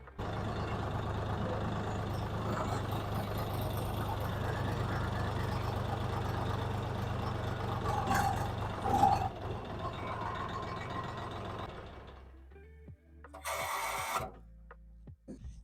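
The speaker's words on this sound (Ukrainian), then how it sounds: "поки це все собі там е, змішується, трішки тракторець прогріється" A tractor engine idles while warming up in a field before wheat spraying, a steady low drone that runs for about twelve seconds and then cuts off, followed by a few brief clanks and a short hiss.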